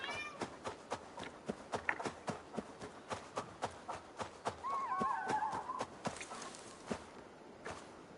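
A cat meowing in the Assassin's Creed Valhalla video game, a short wavering cry in the middle over a steady run of hoof clip-clops and footsteps.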